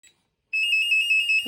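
Co-sleeper baby monitor alarm sounding at home: a steady, loud electronic tone starts abruptly after a short pause and holds continuously, with a faint blip before it and a low thump at the end.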